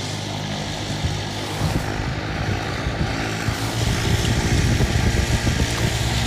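A propeller airplane passes over a farm during a live plane-spotting session, its engine drone steady and fairly loud, swelling slightly as it nears, with no talk over it.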